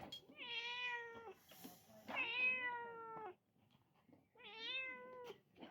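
A cat meows three times, long drawn-out cries with pauses between, fairly close and clear.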